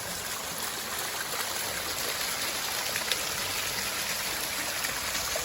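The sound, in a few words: small waterfall running into a pool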